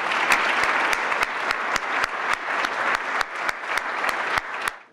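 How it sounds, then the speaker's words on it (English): Sustained applause from an audience honoring police officers at a department promotions and awards ceremony, steady dense clapping with sharp accents throughout, fairly close and loud, ending abruptly. "So let me give another round of applause."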